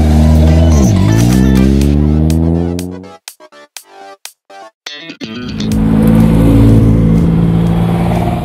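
A Ford Escort Mk engine roars loudly at a classic car event at an airfield, a rising rev followed by choppy on-off bursts and another sustained engine roar.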